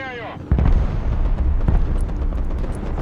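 Heavy artillery explosions from a counter barrage in the war game Broken Arrow, a loud boom followed by rolling rumbles and scattered blasts, with someone talking over them.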